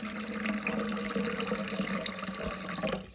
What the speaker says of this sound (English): I'm gonna fill it in with some filtered water, which I have prepared over here.